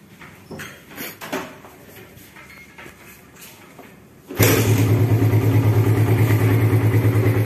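A restored 2005 Suzuki Satria FU CBU motorcycle, quiet handling clicks and rustles, then the engine fires on the first try and settles into a loud, steady, close running rumble.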